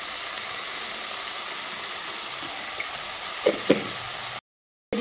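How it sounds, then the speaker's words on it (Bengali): Vegetables sizzle and hiss in a hot pan while being stirred, with a couple of brief scraping knocks before the sound cuts out abruptly. "সবজিটা কিছুক্ষণ আমি এইভাবে নেড়ে চেড়ে নেব"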